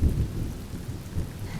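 Rain and thunder in Honkai Star Rail, a steady loud downpour under a deep rumbling roll of thunder that swells at the start and keeps grumbling, with no talk.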